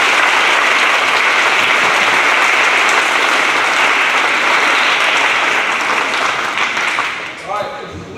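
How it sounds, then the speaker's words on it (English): Steady, loud applause from an audience at an academic awards presentation, sustained for about seven seconds before tapering off as a voice begins. "So let's give him one more round of applause."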